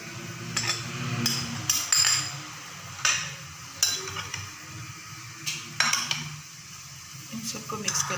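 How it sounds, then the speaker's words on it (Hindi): Chopped tomato, cucumber and cabbage being tossed together in a bowl, with a series of sharp clinks and scrapes of a utensil against the dish at an irregular rhythm, close and fairly quiet over a low background hum. "इन सबको मिक्स कर लेना है।"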